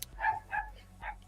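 A dog barks three times in quick succession at close range, short sharp yips in an otherwise quiet room.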